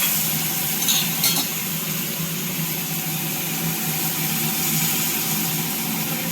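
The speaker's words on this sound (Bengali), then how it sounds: "এখন এই গরম জলটা, ডালের জলটা দিয়ে দেবো, ডাল সিদ্ধ করেছি সেই জলটা দিয়ে দেবো।" Hot dal water poured onto frying spice masala for an egg curry, a loud, dense, steady sizzle and hiss throughout with no talk.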